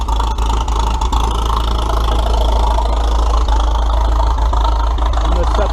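An engine runs loud and close with a deep, steady rumble and some knocking, being given more throttle, while someone talks over it.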